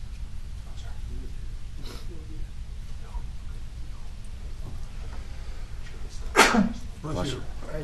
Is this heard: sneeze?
yes